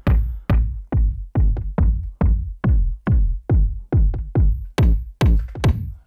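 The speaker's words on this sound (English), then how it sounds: "So the kick drum I landed at sounds like this" A punchy techno kick drum from an Ableton drum rack hits about fourteen times in a steady four-on-the-floor pulse, each thump deep and booming with a short decaying tail, loud and alone.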